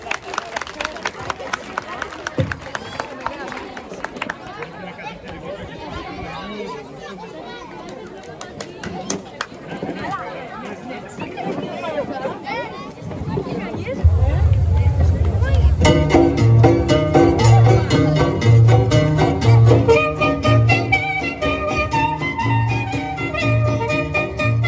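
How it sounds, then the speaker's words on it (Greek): An outdoor festival audience applauds a children's dance group with continuous clapping mixed with crowd noise. Loud music takes over partway through. "Ένα θερμό χειροκρότημα για τα μικρά."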